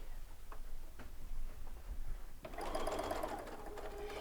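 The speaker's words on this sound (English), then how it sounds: "let's take this over to the sewing machine and do the final piece of the block" A sewing machine stitches a quilt block, starting with a few faint ticking clicks before the motor kicks in with a fast, steady mechanical whir and chatter, fairly quiet and close, with no talking.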